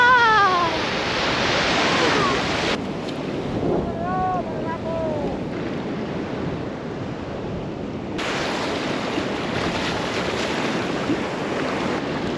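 Steady rushing surf and wind noise fill the recording, with waves washing continuously and voices calling out briefly over the water.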